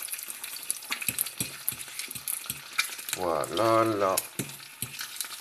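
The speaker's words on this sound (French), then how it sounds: "On va brouiller les œufs." Eggs scrambled with a small fork in a hot frying pan, steady sizzling with rhythmic tapping and scraping of the fork, a brief burst of louder stirring, while a voice speaks briefly.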